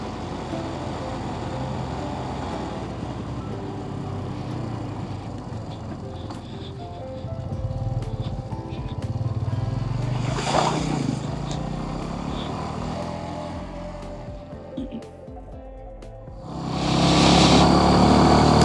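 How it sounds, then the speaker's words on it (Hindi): A Suzuki GS 150 motorcycle climbing uphill on a mountain road from Chilas toward Babusar Top: a continuous engine drone that grows louder midway, with a brief sharp rise and a strong loud burst of noise at the end. "बाइक चलती जा रही है, सही चलती जा रही है।"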